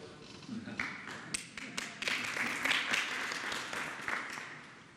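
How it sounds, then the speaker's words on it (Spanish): Applause from a crowd at a Mexican presidential morning press conference, a steady patter of many hands clapping at moderate volume, with scattered louder claps and faint voices underneath. "aplauso."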